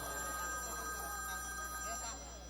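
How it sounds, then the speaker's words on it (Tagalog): A mobile phone rings from inside a bag, its repeating electronic ringtone muffled and held at a steady level, with people talking over it indoors. "yung telepono mo tumatawag na nagri-ring"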